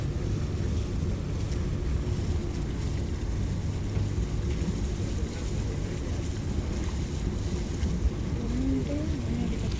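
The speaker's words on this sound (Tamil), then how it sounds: "இப்போ வந்து போட் வந்து அடிக்க போகுது" Ferry boat arriving at a dock on the way to an airport in Norway, a steady low engine rumble with wind and water wash throughout, continuous and fairly loud.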